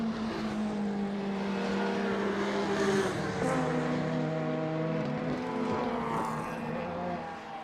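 Peugeot touring car racing on track in the Baltic Touring Car Championship, a sustained engine note with shifting revs and harmonic whine, moderately loud and passing steadily before easing off at the end.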